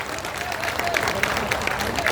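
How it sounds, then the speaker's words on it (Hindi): An audience at a Powergrid programme in Lakhisarai, Bihar claps in welcome for a politician, the applause steady and crowd-filled with sharper individual claps standing out. "तो मैं चाहूंगी कि आप लोग जोरदार तालियों से स्वागत करते हुए"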